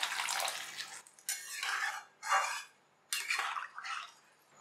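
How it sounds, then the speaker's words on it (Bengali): Water pours into a cooking pot of vegetables in several gushing bursts separated by short pauses, close and fairly loud, with no talking. "এবার দিয়ে দিচ্ছি জল।"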